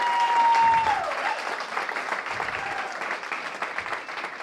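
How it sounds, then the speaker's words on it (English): Broad applause from an audience at a National Teach Ag Day live event, a thick sustained clatter of many hands, with a brief tone sounding at the start. "let's give Jamonica a huge round of applause"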